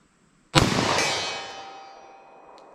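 A .40 S&W pistol fires one Winchester Silvertip round: a single loud, sharp crack followed by a long ringing decay, with no voices.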